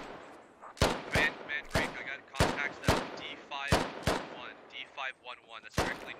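Gunfire and incoming rounds in the Squad video game: a string of sharp, loud cracks arrives at irregular intervals, each followed by a ringing tail, with quieter echoing reports between them.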